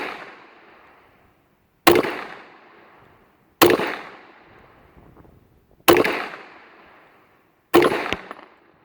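Four loud, sharp pistol shots from an old Astra 600 fired at a police silhouette target outdoors, spaced about two seconds apart, each with a short decaying echo.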